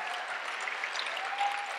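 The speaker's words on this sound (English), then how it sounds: "big round of applause for these folks as well" Audience applause at an Ignite Denver talk event, a steady wash of many hands clapping throughout, moderately loud and even, with no talk over it.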